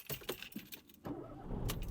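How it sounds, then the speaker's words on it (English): A Peugeot car is started up, keys jangling first, then a brief cranking surge as the engine catches and settles into a low, quiet idle. "So engine started."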